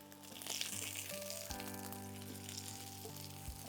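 Potato, drumstick and skin-on mango pieces frying in a pan for a Bengali mango and fish curry, a steady close sizzle with a few soft clinks and shifts, no one speaking.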